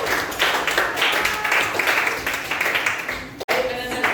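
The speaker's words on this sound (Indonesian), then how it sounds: "Tepuk tangan untuk kita semua." Classroom audience clapping together in a dense, steady run of many hands that breaks off briefly near the end, with faint voices mixed in.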